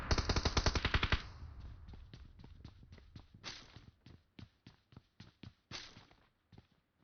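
A teammate fires a heavy automatic weapon in PUBG Mobile's Payload 2.0 mode: a loud sustained burst, then scattered single shots and short bursts that grow quieter and sparser, with no talking.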